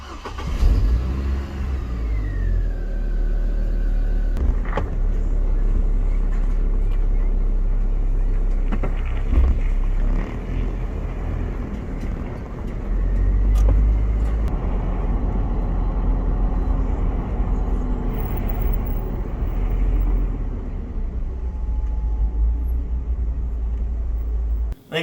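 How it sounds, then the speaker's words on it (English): A Hummer H3 driving during a fuel pressure check, its engine rumbling steadily and close for the whole stretch, with a brief rise in revs and some road and cabin noise underneath. "Now that I've seen the fuel pressure range, I'm gonna go ahead and drive around"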